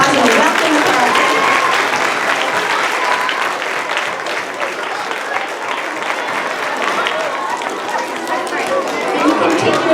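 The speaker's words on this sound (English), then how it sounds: "If we can give them a round of applause and a welcome to Carleton." An assembly audience welcoming new students to Carleton claps in sustained, loud applause filling the room, with crowd chatter mixed in throughout.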